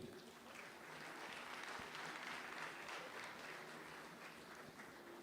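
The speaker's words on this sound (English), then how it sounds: "A round of applause for him." An audience at a film and TV market festival claps steadily for a few seconds, a dense, even wash of applause heard from within the hall, moderately distant and without cheering.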